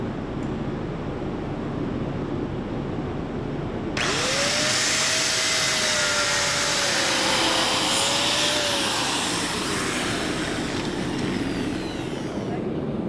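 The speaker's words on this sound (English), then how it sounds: "I'm going to cut off just a little bit of excess material that's on the end" Power tool cutting excess material off the end of a handmade knife handle, a loud steady motor roar that swells sharply partway through as the cut bites, with a wavering whine riding on top.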